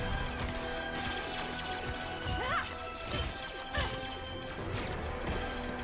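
An explosion from a Star Wars: Tales of the Empire episode, with crashing impacts and debris-like bursts over a dense, busy action soundtrack, moderately loud throughout.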